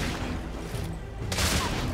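Gunfire from a small handgun in the game The Order 1886, a run of rapid, loud cracking shots over a heavy noisy wash, with a fresh, stronger burst late in the sequence.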